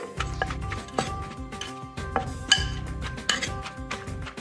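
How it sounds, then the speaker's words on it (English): A pestle thuds and scrapes in a mortar while ingredients for Lao papaya salad are pounded and mixed, giving irregular knocks with sharp clinks in an uneven working rhythm. "We pound the ingredients, these ingredients, so that the juices break out."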